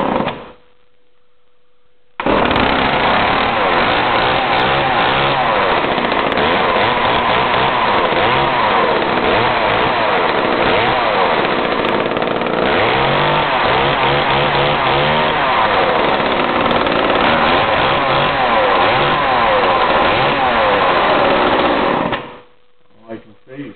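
An old Homelite chainsaw with fresh fuel and checked plugs runs steadily for about twenty seconds, a loud continuous buzzing drone with slight revving, cutting off abruptly near the end.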